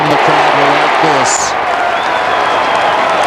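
An Australian football crowd at a St Kilda versus Fremantle match cheers and applauds after a goal, a loud continuous roar with a sharp whistle cutting through and a voice briefly over the top.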